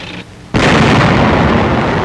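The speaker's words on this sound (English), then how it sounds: "A tank destroyer goes into action." A WWII tank destroyer fires in street combat near a waterfront. After a brief lull, a sudden loud blast sets off a sustained, roaring wash of noise that stays close and heavy to the end.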